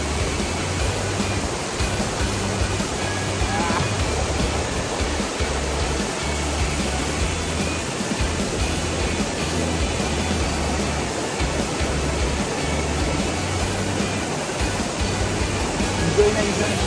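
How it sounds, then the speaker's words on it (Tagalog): Water rushes hard at Asik-Asik Falls, a wide curtain waterfall, making a loud, continuous broadband roar that does not let up. "Guys, pakita ko sa inyo yung Agos, oh. Grabe."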